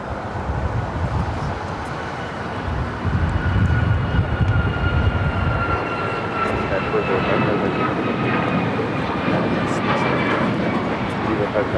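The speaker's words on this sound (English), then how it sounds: "This takeoff is United Airlines 405 taking off to Boston on the MAX 9" A United Airlines Boeing 737 MAX 9 takes off from LAX, its engines making a broad, steady roar that swells and holds at a distance, with a voice talking over it.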